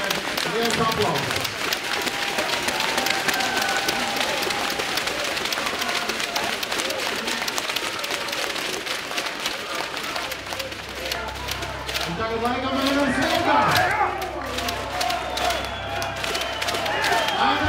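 A crowd claps and cheers steadily for the FK Liepāja 2015 league champions, dense applause with scattered shouts and whistles, while a voice talks over it at times.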